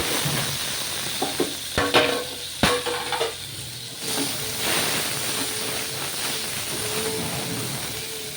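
Onion and tomato fry in an oiled pan for a bitter gourd curry over a medium flame, a soft close sizzle and hiss broken by a few sharp clacks of stirring and ingredients dropping in.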